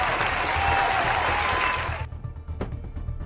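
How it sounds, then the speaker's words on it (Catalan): Audience applause at a Catalan comedy and variety show, dense clapping for about two seconds that stops abruptly, leaving a quiet room with a faint tap afterward. "Gràcies per aquests aplaudiments en forma de dit"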